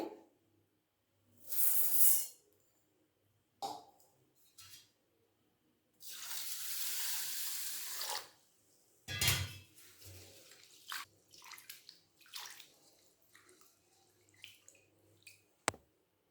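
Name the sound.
washing basmati rice in water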